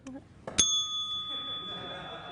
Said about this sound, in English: Where you press the bell and then you have to go